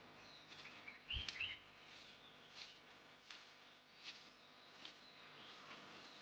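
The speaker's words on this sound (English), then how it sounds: "You can hear a lot of birds." Faint birds chirp in short, scattered calls over a quiet outdoor background at a hill stay in Kotagiri, with one louder thump near the start.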